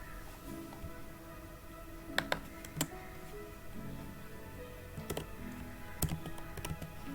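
Typing on a computer keyboard during a front-end web development session, heard as scattered clicks and a few sharper key taps over a steady low room hum, close and fairly quiet, with no talking.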